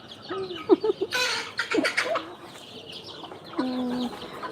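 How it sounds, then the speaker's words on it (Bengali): A flock of native farm chickens clucks and calls, with several close, overlapping clucks and short squawks rising and falling. "দেখতেই কি সুন্দর লাগে মুরগির মেলা"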